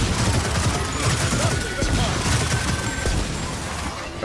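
Sniper and rapid gunfire from the Gears of War 4 video game, a dense continuous barrage of cracks and impacts filling the whole stretch at steady loudness, with no voices.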